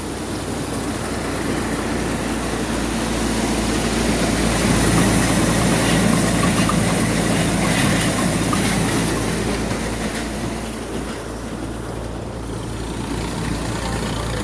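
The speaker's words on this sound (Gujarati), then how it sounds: "આ રીતે આપણું થેસર ચાલુ છે અત્યારે કંબોઈની અંદર" A threshing machine runs steadily while threshing black gram, with a dense, rattling mechanical roar and a low constant hum, loud and unbroken throughout, with no voices.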